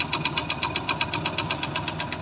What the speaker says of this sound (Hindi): मैं आपको इसका साउंड सुना देता हूँ कि साउंड किस तरीके से इस बाइक का साउंड कर रहा है